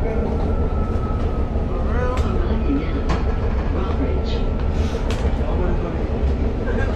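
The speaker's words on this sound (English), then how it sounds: "Exquisite vibes on the Friday train." Continuous low rumble and rattle inside a moving train carriage, loud and steady, with faint voices murmuring underneath.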